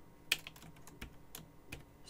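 Someone types a router command on a computer keyboard, a few sparse, light keystrokes with one sharper tap early on, close and quiet against a hushed room.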